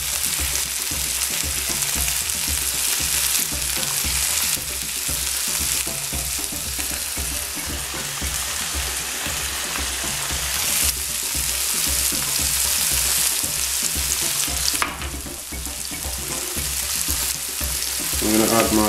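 Pepper and seasoning ingredients fry steadily in a pan for a Nigerian bagel and egg dish, giving a continuous close sizzle with occasional stirring scrapes throughout.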